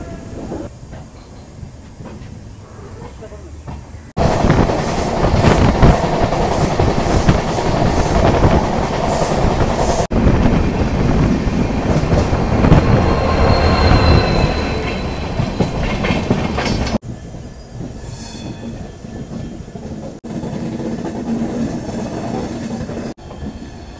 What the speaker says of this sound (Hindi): हम 2 मिनट के हॉल्ट के बाद डिपार्ट कर रहे हैं रेलवे स्टेशन से